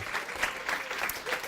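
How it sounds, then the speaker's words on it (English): A church audience gives faint, steady applause at a moderate distance, a continuous wash of clapping throughout the short moment. "just clap for her"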